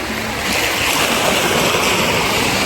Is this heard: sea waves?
yes